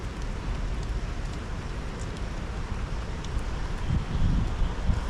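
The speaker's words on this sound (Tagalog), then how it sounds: "Sarap po ng hangin." Wind blows steadily into the microphone at a quiet fishing spot, with a low rumbling buffet that swells briefly near the end.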